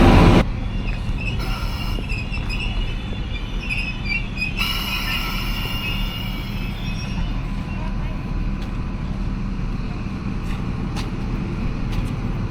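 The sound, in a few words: passenger train arriving at the station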